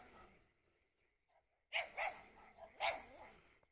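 Dogs bark loudly and close by in a quick cluster of three or four barks after a quiet rural evening stretch with faint background sound.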